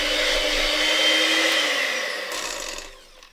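An electric whisk beating butter icing in a bowl, giving a steady high motor whir close by that slowly drops in pitch and fades as the mixer winds down and stops.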